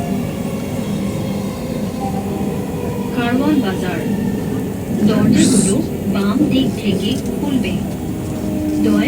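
Dhaka metro train between Agargaon and Dhaka University, a steady rumble of rolling carriages with rising electric whine and squeals, someone talking over it throughout.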